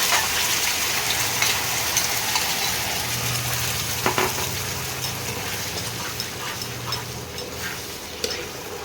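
Poppy seed paste with onion and tomato hitting a hot pan for a Bengali fish dish, a steady broadband sizzle of frying with occasional stirring clicks, close and continuous throughout.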